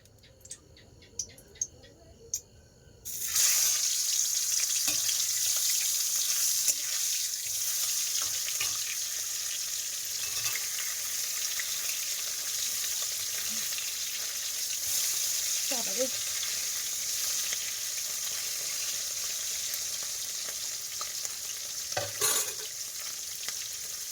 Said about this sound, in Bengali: আগে এই মাছগুলো ভাজবো।